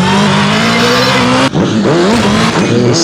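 A motorbike engine revs hard and steadily, loud and close, its pitch rising, then briefly cutting and roaring back with shifting tones.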